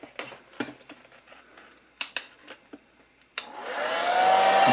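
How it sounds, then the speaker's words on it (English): After a few scattered clicks and taps, a hair dryer set to high heat and low blow switches on to dry a Singer 201K sewing machine after a soapy-water cleaning. It holds a loud, steady whoosh close by that swells as it runs. "where's that hair dryer?"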